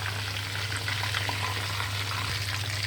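A whole broiler chicken fries in hot oil with a steady, dense sizzle and crackle, close and continuous throughout, with no talking.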